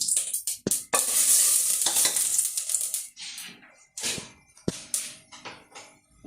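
A teaspoon of ghee crackles and sizzles in a cooking pan as biryani ingredients go in, loud bursts of frying mixed with sharp metal clinks of utensils against the pan, easing into quieter sizzling.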